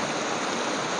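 River water flows in a steady, close, broadband rush, continuous and alone without any talking.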